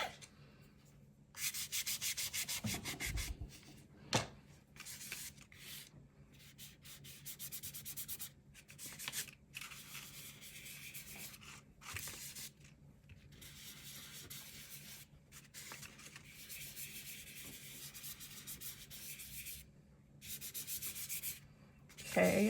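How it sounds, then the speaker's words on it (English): A Prismacolor NuPastel stick is scraped against a palette in soft, quiet, repeated rasping strokes with brief gaps, close and faint. "And then I'm using New Pastels by Prismacolor, and I like to scrape off onto my palette."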